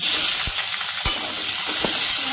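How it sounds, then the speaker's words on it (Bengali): Chopped onion sizzling as it fries in hot oil in a pan, a steady broadband hiss with a few soft stirring knocks, close and continuous without talk. "পেঁয়াজ কুচি দিয়ে দিলাম"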